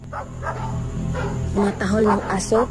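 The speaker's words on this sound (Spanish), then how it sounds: "Entonces los perros empezaron a ladrar." Dogs bark and yip repeatedly, some barks close and loud, others whining, with a voice speaking underneath.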